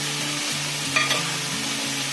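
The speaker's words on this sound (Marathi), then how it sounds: "आता याच्यामध्ये मी हळद टाकणार. हे चांगलं हलवून घ्यायचं आपण." Vegetables with turmeric being stirred in a pan for a homemade sabji, a soft scraping stir over a steady sizzle, close and alone with no voices.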